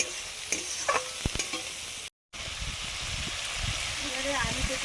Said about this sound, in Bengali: অল্প জল দিলাম মশলাটা কষানোর জন্য